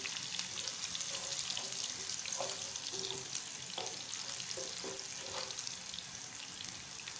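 Onions fry with whole chillies and cumin in a pot, a low, quiet sizzle with occasional soft stirring clicks and scrapes running steadily throughout.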